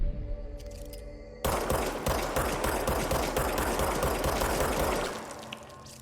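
Rapid automatic gunfire while headshots are practiced in the game Control, a loud close burst of steady rhythmic shots starting abruptly after a quiet moment and running for several seconds before tapering off.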